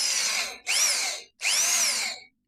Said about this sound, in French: Ça, c'est une super perceuse, c'est une perceuse qu'on m'a donnée.